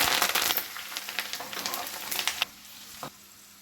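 Curry leaves dropped into hot oil for a bitter gourd chutney crackle and sizzle loudly at first, then the spitting thins out and quiets toward the end, with no talking.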